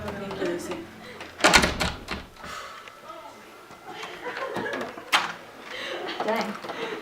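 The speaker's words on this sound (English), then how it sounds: "Lucy, can you please shut the door for me?" A door bangs shut on its own with a loud, sharp slam, then another thud a few seconds later, while several people talk throughout.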